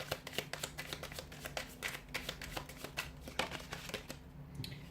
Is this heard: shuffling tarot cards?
yes